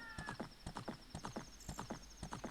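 A horse's hooves clip-clop at a steady galloping rhythm in Zelda: Ocarina of Time, quiet and evenly spaced, with a bright chime-like tone running over parts of it.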